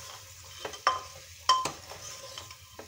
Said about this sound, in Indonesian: Terus kita ini daun bawang aduk-aduk lagi